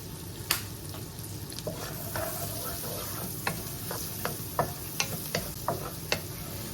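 Chopped garlic and chili with black pepper fry in a hot pan for a mussel dish, giving a soft steady sizzle broken by irregular sharp spatula taps and scrapes, close and fairly quiet.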